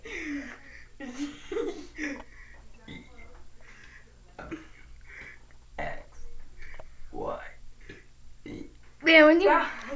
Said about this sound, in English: Man, when he burps, he forgets a lot of letters.